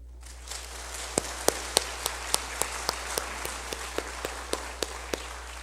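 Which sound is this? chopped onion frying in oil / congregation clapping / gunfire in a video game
congregation clapping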